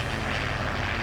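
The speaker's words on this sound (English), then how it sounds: "that sort of plane sound you heard, like 3 Spitfires pop over every now and again, was pretty cool." Spitfire aircraft fly over in the video game Farming Simulator 2019, a loud, steady propeller engine roar filling the whole moment with no talking.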